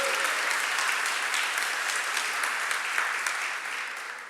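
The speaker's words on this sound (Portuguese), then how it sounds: "Aplauda Jesus, querido" Congregation applauding at a church service, a dense steady wash of many hands clapping that holds level throughout and tapers only slightly at the end.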